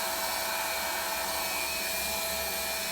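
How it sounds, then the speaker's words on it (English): A hot air welding gun for vinyl sheet flooring seams blows a steady, even whoosh, running alone and unchanged throughout at moderate loudness. "before I weld an entire seam, I want to make sure my gun's hot enough"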